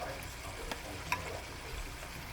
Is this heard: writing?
no